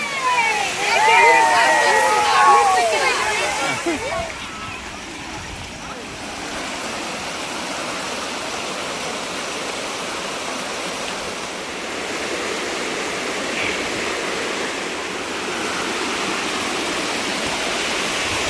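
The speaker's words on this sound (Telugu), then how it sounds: "వాటర్ ఫౌంటైన్సా?" Water fountains at Brindavan Gardens in Mysore rush and splash in a steady broadband roar, with faint voices and a brief higher chirping sound near the start before the flow settles into an even wash.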